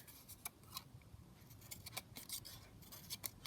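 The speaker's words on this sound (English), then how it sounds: "We're just going to snip in" Scissors snip paper flower petals for a junk journal, a quick series of small, crisp cuts at close range, faint overall and with no talk.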